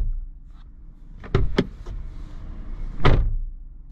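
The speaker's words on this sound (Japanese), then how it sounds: "ドア閉めた音こんな感じ" A Renault Lutecia (Clio) Intens car door shut heavily with a solid metallic thunk, after a few quieter clicks and knocks inside the vehicle, then a low hum.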